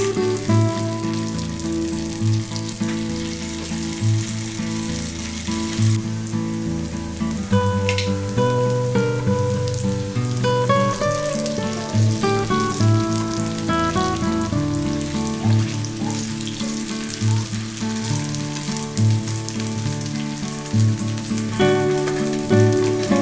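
Cauliflower pieces deep fry in oil for Gobi Manchurian, making a continuous, dense, close bubbling sizzle like rain on a surface. The sound is heard alone throughout.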